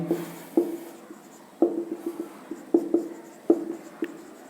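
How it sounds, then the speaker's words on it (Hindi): A marker writes on a board with a run of short squeaky strokes in an irregular rhythm, each a sharp scrape followed by a brief trailing squeak. The strokes are close and moderately loud in a quiet room. "वो कहाँ पर लिखेंगे? यहाँ पर लिखेंगे हम लोग।"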